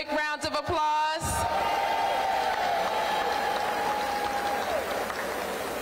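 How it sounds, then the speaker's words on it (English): An audience at a mayor's senior holiday celebration breaks into sustained applause after a brief burst of musical tones, the clapping steady and fairly loud with a sustained tone running beneath it. "Give them a big round of applause."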